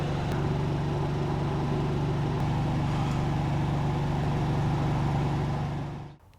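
A small-tire red Corvette drag car on 29.5x10.5x15 tires runs a pass, a steady heavy engine drone holding at full throttle throughout before cutting off and fading at the end.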